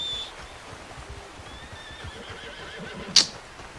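Horse in Red Dead Redemption 2 gives a high, wavering whinny over soft clip-clop and ambient game noise, ending in a short, sharp, louder burst near the close; no one speaks.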